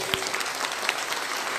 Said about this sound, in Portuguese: Vamos mais uma vez aplaudir